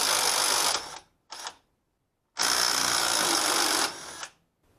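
A power tool, probably an impact gun or drill, removes front strut nuts on a PT Cruiser: two long loud whirring bursts with a short blip between, close and alone, separated by silence.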